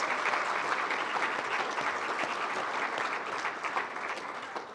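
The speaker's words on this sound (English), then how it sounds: "Let's give a big round of applause to all of our Quarter Century Club inductees and members." A crowd at a Quarter Century Club celebration applauds the inductees and members with full, continuous clapping that holds steady and tapers slightly toward the end.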